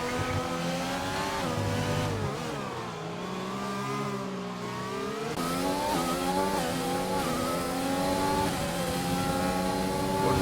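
Simulated race cars scream around a street circuit at Singapore in a racing video game, several engine notes rising and falling in pitch as they chase each other closely, with a steady loud drone and no voices.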